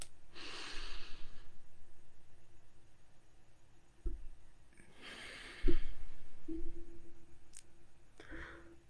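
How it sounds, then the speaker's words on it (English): Slow, deep breaths in and out, heard close: a few long airy inhales and exhales with quiet pauses between them, plus a couple of small clicks, and no one speaking. "Take 9 deep breath ins and breathe out 9 times"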